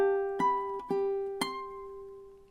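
Ukulele playing a lullaby passage high on the fretboard, a few sparse plucked notes and chords ringing out and decaying slowly, close and soft with no voices.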